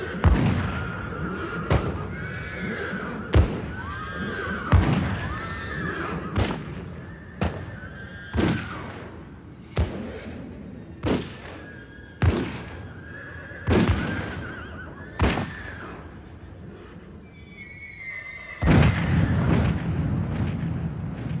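Horses neigh and whinny repeatedly, roughly one loud call every second or two, each sharp whinny rising and trailing off, close and clear, with a heavier thumping rumble near the end.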